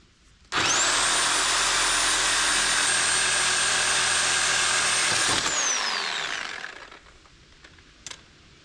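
A Sawzall reciprocating saw cuts through an ATV with a loud, constant buzzing drone for about five seconds, then binds, winds down and stops, followed by a small clunk.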